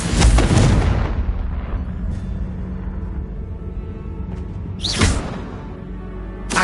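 A Confringo fire-blast spell explodes in the Hogwarts Legacy video game, a loud close burst at the start that decays into a rumbling tail, followed by a second sharp blast and a brief whooshing flare later on.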